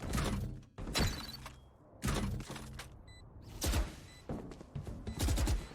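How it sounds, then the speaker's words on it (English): Gunshots in a Sentinels vs Cloud9 video game match, several sharp, loud cracks spaced irregularly over a few seconds, with short quiet gaps between them. "The shots are being sent out."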